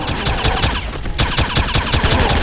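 Rapid, regular automatic gunfire from an MP40 submachine gun in the 2009 shooter Wolfenstein, a loud, steady stream of close shots with a brief gap midway before firing resumes.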